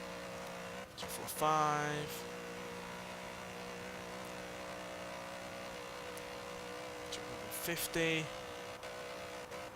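1988 Mitsubishi Starion ESI-R in Forza Motorsport 7 held at top speed against the rev limiter, a steady droning engine tone with a man briefly calling out numbers over it.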